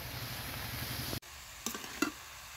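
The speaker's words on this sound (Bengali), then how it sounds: "নিয়ে এবার আমি একসঙ্গে কষিয়ে নেব এবং লবণটাও দিয়ে দেব।" Cabbage and fried potatoes sizzle in a pan, a steady close frying hiss that cuts off briefly and is followed by a couple of light stirring clinks.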